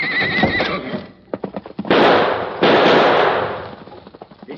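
A horse named Silver whinnies loudly in a radio drama, a shrill neigh rising out of dialogue, followed by sharp bursts of gunfire-like cracks and a dense, noisy commotion.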